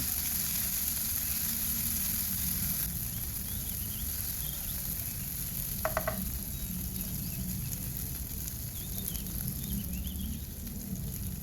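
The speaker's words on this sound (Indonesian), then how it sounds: "Masukkan bumbu halus bersama lengkuas geprek ke dalam wajan. Kita tumis hingga harum dan matang." Steady, dense sizzling of ground spice paste with crushed galangal frying in a hot wok, continuous and close throughout, with a brief clink partway through.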